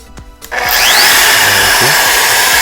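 A Makita RT0700C trim router set to dial speed 5 spins up from quiet, then holds a loud, smooth, high-pitched whine close to the listener.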